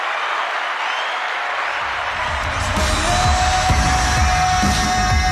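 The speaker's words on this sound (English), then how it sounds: "Oh, listen to the crowd" Played-back recording of a crowd cheering and applauding, a steady dense roar that swells louder partway through, with whoops and shouts scattered on top.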